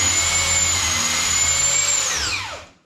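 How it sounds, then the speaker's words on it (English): Drill running steadily for about two seconds while boring pocket holes through a pocket hole jig for a twin bed frame, loud and close with a constant high whine, then spinning down to a stop. "we're just going to drill the pocket holes in here"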